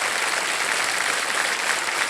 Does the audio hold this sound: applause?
yes